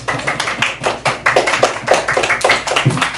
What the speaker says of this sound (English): Let's give a round of applause for the judges.